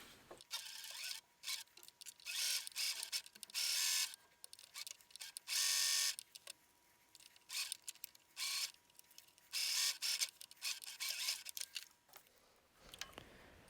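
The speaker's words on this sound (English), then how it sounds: "we can go to our sewing machine and start sewing up the sides" A sewing machine stitching the side seams of a skirt, running in repeated short bursts of rapid mechanical whirring separated by quiet pauses, close and fairly loud, with no talking.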